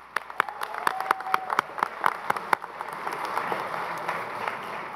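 Applause for graduates at the close of a graduation ceremony in a theater, a crowd clapping steadily with sharp individual claps standing out early, swelling into a dense, sustained round.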